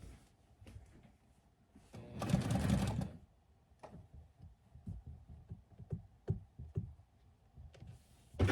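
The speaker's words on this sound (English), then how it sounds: "I love this sewing machine to the death of me, swear to God." A sewing machine stitching patchwork pants runs in one short, loud burst of rapid stitching, surrounded by quieter clicks and thumps of fabric handling nearby.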